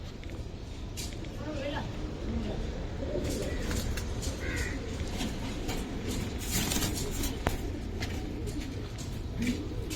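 Low burbling coos from Giribaz pigeons, Tota Panki birds at a breeder's loft, come through under people talking, with a few sharper bird calls and clatter mixed in.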